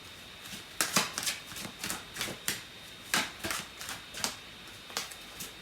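Tarot cards being shuffled by hand, a series of soft, crisp riffling and slapping bursts that repeat at an uneven rhythm of roughly one or two per second, close and quiet.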